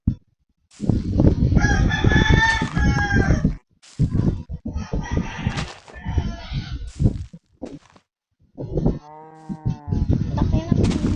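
A cow mooing in loud, drawn-out calls separated by short pauses, close by, with a rooster crowing in the final seconds.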